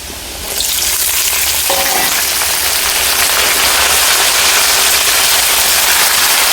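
Bottle gourd stems and carrots go into hot oil with browned papaya and potato, erupting into a loud, dense, continuous frying hiss that swells in the first half second and stays steady and close throughout.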